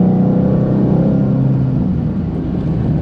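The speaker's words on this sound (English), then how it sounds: "when you do get it right and you tastefully feed the lever right into the right gear, it is a satisfying shift" Supercharged 2013 Mustang GT engine droning steadily and loud, with a smooth low rumble through a gear change and no talk over it.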